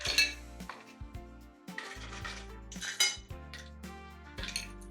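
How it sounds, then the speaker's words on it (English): Ice cubes dropped into a cocktail glass, a run of close, bright clinks and knocks, several in quick bursts with short pauses between, alone without talk. "Next, add more ice, but as I said, not to the top."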